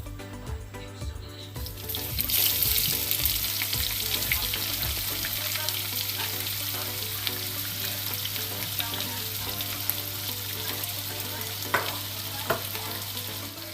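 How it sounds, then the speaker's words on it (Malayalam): Sliced onions hit hot oil in a pan, bursting into a loud sizzle that settles into a steady, close frying hiss with occasional stirring scrapes, set against a constant low hum. "നമുക്കിതിനകത്തേക്ക് കുറച്ച് സവാള ഇട്ട് കൊടുക്കാം."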